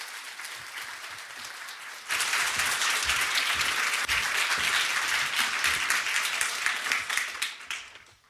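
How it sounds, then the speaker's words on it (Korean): Warm applause from a church congregation, a dense wash of many hands clapping that swells suddenly after a quieter start and carries steadily until it tapers off at the end. "여러분께서 뜨겁게 박수로 격려해 주시면"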